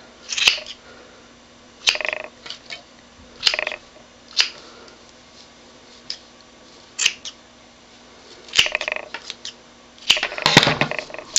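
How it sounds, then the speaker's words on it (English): Scissors snipping through loops of Stampin' Up! sweater trim yarn to make a pom-pom, close sharp cuts at irregular intervals with quiet gaps, ending in a quicker cluster of snips. "And use my scissors to cut all the loops."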